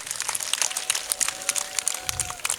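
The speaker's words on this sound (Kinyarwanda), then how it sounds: "Mu amashyi n'impundu nyinshi." Crowd applause at a community gathering in Rutunga, Kigali, a dense patter of many hands clapping steadily throughout, with scattered bright bursts and a faint high ululation line running through the middle.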